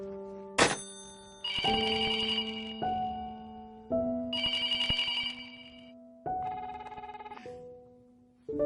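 Telephone ringback tone on an outgoing call, heard as repeated electronic ringing bursts with short pauses between them, loud and close with no talking over it.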